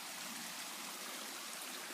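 A water runoff stream beside a canyon hiking trail below a waterfall in Utah rushes steadily, a continuous, even wash of flowing water heard alone at moderate distance.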